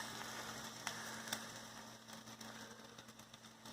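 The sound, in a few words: spam and eggs frying in a pan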